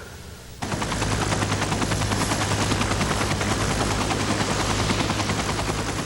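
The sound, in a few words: Life Flight medical helicopter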